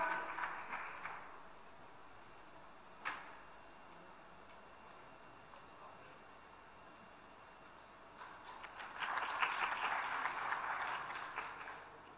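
Audience applause at an awards ceremony breaks out in two faint bursts, one at the start and a fuller round near the end, with a single sharp clap in between and quiet room tone elsewhere.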